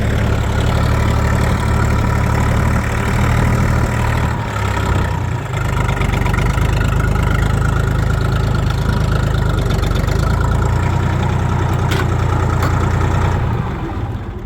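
A Kentavr 244S tractor engine runs loudly and steadily during an off-road test drive, with a deep, constant rumble and slight shifts in load, close and with no speech.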